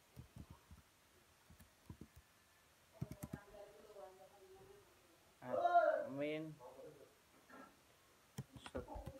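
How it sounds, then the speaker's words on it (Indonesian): Typing a django-admin command on a computer keyboard, with soft scattered key clicks in short bursts and a brief stretch of talk partway through. "kita langsung saja ketik django.admin"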